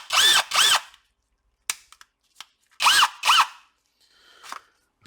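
A repaired Parkside cordless drill runs on its battery in short bursts, each trigger pull a whining spin-up and wind-down, two pairs of quick runs separated by clicks and handling noises, close and loud.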